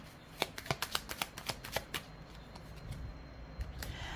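Tarot cards are riffled and shuffled close by, a fast run of crisp rhythmic flutters that trails into softer sliding and drawing of cards, with no talking.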